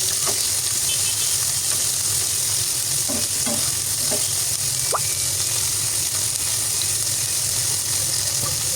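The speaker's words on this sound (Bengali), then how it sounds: "এইভাবে যদি আপনি সব মশলা দিয়ে মাছ ভাজি করেন ওই মাছ ভাজিটা খেতে খুবই মজার হয়" Puti fish frying with spices in a pan, giving a steady, close sizzling hiss throughout with a few light clicks and taps of stirring.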